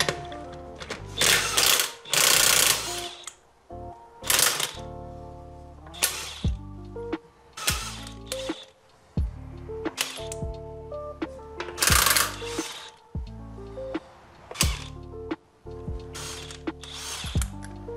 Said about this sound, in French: Donc là j'ai la clé à choc, et je pourrais dévisser les vis.